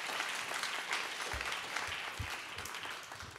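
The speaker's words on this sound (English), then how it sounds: "Big round of applause." Audience applause from a crowd at a confidence-in-presenting talk, a steady dense wash of clapping that holds at an even level throughout without any speech.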